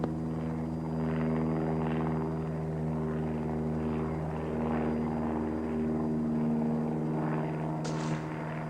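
Helicopter flying overhead during the darting of a running grizzly bear, a steady loud rotor and engine drone with strong harmonic hum continuing throughout, no voices.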